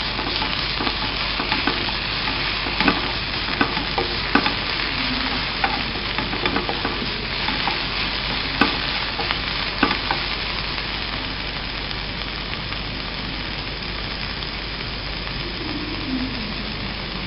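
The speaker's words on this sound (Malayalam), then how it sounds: "അതിലേക്ക് തക്കാളി ചെറുതാക്കി മുറിച്ച് വെച്ചത് ചേർക്കുക." Chopped tomatoes fry in a hot pan for masala egg bhurji, giving a steady, close sizzle with scattered clicks and scrapes as the mixture is stirred throughout.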